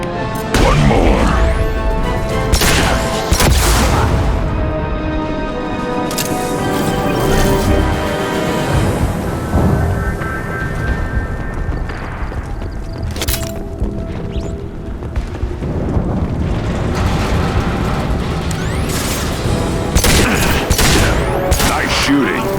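Heavy bursts of sci-fi gunfire from a firefight in Mass Effect 2, loud and sustained with rapid volleys, booms and impacts, while voices speak over the combat.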